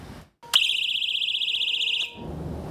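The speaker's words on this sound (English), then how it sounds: "That's the sound of the Birdie personal safety alarm." A Birdie personal safety alarm sounds a loud, continuous high-pitched warbling shriek for about a second and a half, then cuts off abruptly, with no voices.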